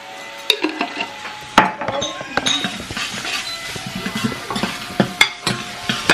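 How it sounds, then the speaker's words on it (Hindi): Crushed garlic and a spoonful of ginger fry in a pan for kadai paneer, with a soft sizzle under repeated metallic clinks and scrapes of stirring, close and moderately loud. "अभी हम डाल देंगे कूटकर गार्लिक, एक चम्मच डाल देंगे जिंजर का, अच्छे से भूनेंगे"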